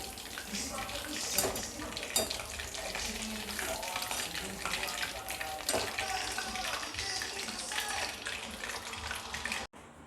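Coated soybean manchurian pieces deep-frying in oil, a dense, steady bubbling sizzle with occasional sharper crackles that runs unbroken for most of the clip before cutting off abruptly.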